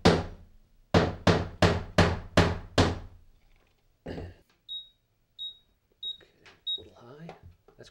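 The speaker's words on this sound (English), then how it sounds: "I'll take the hammer and a nail, thank you, and we'll just drive a nail in" A hammer drives a nail into a gypcrete floor in six sharp, evenly spaced strikes, followed by faint beeps and quiet talk nearby.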